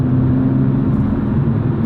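A new car's engine hums in a steady low drone while it drives over bumps, with continuous road rumble close and even throughout.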